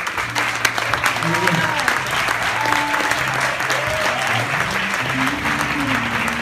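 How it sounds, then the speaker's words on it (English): Congregation applauding the first lady at a church service, continuous clapping mixed with talking voices and background music throughout. "Somebody clap once for the first lady"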